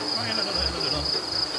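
Honey bees hum near a hive in a steady, loud drone with a bright high whine above, rising and falling slightly while a faint voice murmurs underneath.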